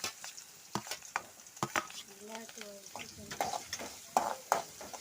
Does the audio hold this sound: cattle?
no